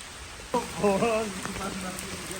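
Steady rain patters on a surface, a constant hiss throughout, with a brief voice-like tonal sound rising over it early on.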